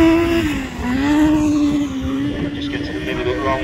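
F600 race cars roar around a track at Evesham, a loud sustained engine drone rising and falling as they pass, with commentary heard over it.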